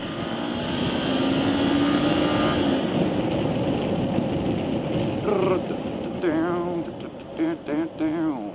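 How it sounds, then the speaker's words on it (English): A small motorcycle engine in a video game drones steadily, then revs in several short, rising bursts toward the end. "Love the power of my tiny motorcycle."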